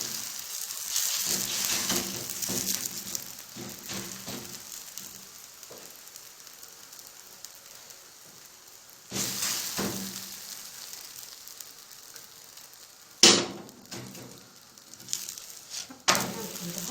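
Onion flatbread frying in oil, a continuous close sizzle and crackle that swells louder at moments, with sharp spatters near the end and no speech over it.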